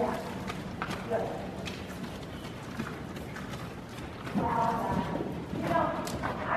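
A ridden horse moves with steady clip-clopping hooves during a riding lesson, heard under an ongoing low rumble and background noise.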